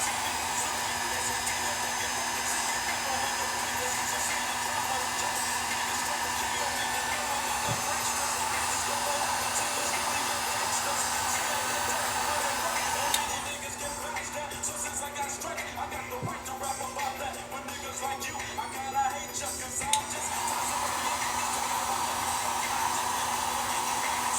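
Heat gun blowing a steady, loud hot-air whoosh while shrinking heat shrink tubing over crimped car audio wiring for a fuse block battery install kit, continuous throughout with a slight change in tone midway.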